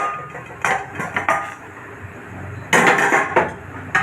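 A lid lifted off a cooking pan while potato kulcha cooks in water without oil gives a few clanking metal knocks and clinks, followed by a louder rattling clatter near the end, close by with no talking.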